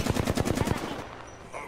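Rapid automatic gunfire in the video game Apex Legends, a tight burst of about eight punchy shots in under a second, then a fading ring-out.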